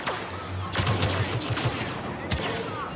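Blaster gunfire in the video game Star Wars Battlefront, a rapid volley of sharp shots followed by a couple of louder blasts, close and loud over game sounds.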